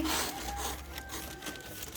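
Something scratches across a freshly plastered cement wall in a short, soft, rasping scrape, close by and faint against steady background noise.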